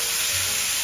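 Fries sizzle in hot oil during frying, a steady, bright crackling hiss heard close up with no voices.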